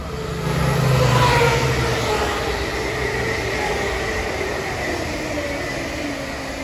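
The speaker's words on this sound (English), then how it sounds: "Train standing on platform 1 doesn't stop here" A British Rail Class 171 diesel train idles loudly at a station platform, its engine droning and swelling briefly before settling into a steady, throbbing hum.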